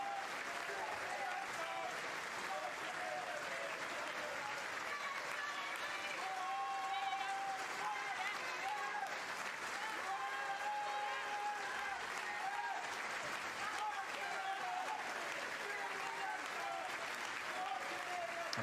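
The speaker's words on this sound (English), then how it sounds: "A round of applause here" Steady stadium crowd applause at Kingsmeadow during a Chelsea v Leicester City women's league match, a sustained even clapping wash from a large crowd lasting throughout, with no voices standing out.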